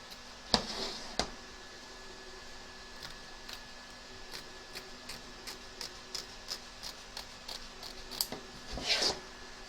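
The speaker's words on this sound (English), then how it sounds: "Trim away the excess fabric from both back and front of your hoop" Scissors trimming excess fabric from the back and front of an embroidery hoop, heard as a run of faint, sharp snips spaced irregularly, with a slightly louder cluster near the end.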